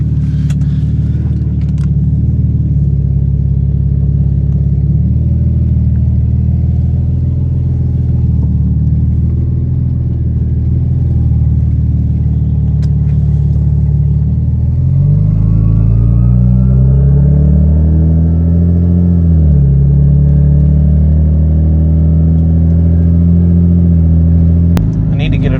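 A BMW 335 fitted with a big single turbo rumbles loudly as it drives, its deep engine note steady and then rising as it pulls away, with people talking over it.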